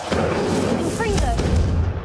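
A Confringo fire-blast spell cast in Hogwarts Legacy: a loud, sustained whooshing burst with booming low energy that lasts the whole moment, with a short voice-like tonal flourish in the middle.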